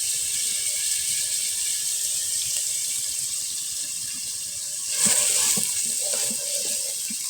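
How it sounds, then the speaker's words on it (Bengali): Ginger garlic paste and spices being sautéed for chicken masala in a home kitchen, giving a steady, hissing sizzle throughout with a brief louder surge of frying and stirring near the end. "মশলাটা সুন্দর করে কষিয়ে নেব"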